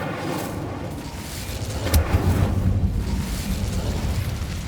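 In the video game Hogwarts Legacy, the Incendio fire spell is cast, bursting into a whooshing roar that rumbles on for a few seconds over a continuous game soundscape.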